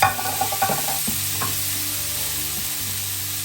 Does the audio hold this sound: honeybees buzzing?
no